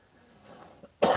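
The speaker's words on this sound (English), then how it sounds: "That was a cough and a fart" A single sharp, loud cough bursts out after a quiet stretch with faint background murmur, close to the microphone.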